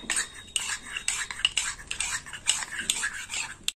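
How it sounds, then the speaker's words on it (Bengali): Spice paste being stirred and mixed in a bowl with a little water for a Bengali mustard-and-pointed-gourd dish, a busy run of close scraping and clinking of a utensil against the bowl, steady and fairly loud throughout. "মশলাটা একটু গুলে নিই।"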